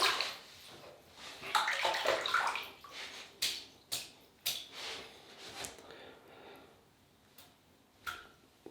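A synthetic silver-tip shaving brush is wetted under a running tap, with a steady splashing rush of water that swells and fades alongside a few sharp taps and knocks nearby.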